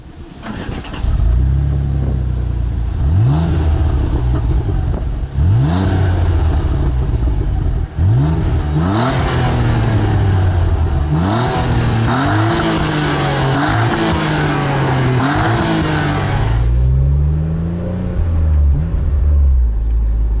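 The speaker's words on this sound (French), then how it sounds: "Elle fait le bruit du vieux flat 6 Porsche, c'est ouf." Renault Clio V6 engine revving hard as the car accelerates through repeated gear changes, a loud, continuous raspy roar like an old Porsche flat-six, with rising pitch sweeps after each shift and a steady drone at the end.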